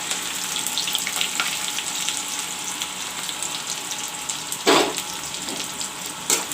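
Onions and green chili frying in a hot pan, a steady soft sizzle throughout with a couple of brief louder crackles or stirs, close and moderately loud, no talking.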